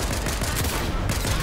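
Rapid shotgun blasts in a video game, loud, dense and continuous, firing back to back with no pauses and no talking.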